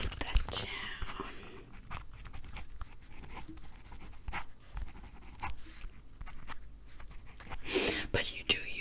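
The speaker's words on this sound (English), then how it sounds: "So I'll write that down." A pen scratches softly on paper up close in a quiet ASMR hairdresser role-play, faint intermittent strokes with whispered speech over them.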